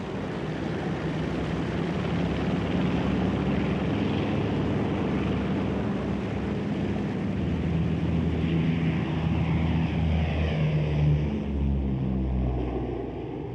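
The piston engines of a Vickers Wellington bomber drone in a steady, loud, continuous hum, with no talking.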